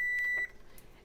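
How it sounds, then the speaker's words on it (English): A kitchen timer beeps while pasta and broccoli finish cooking, a steady high electronic tone lasting about half a second, then cut off and followed by near silence. "There goes the timer right now."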